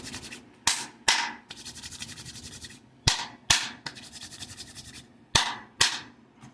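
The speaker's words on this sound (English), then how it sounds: "So rub my hands together, get my energy flowing good." Hands rub together in a dry, scratchy swish, broken by several sharp slaps or claps that come in quick pairs. No one speaks.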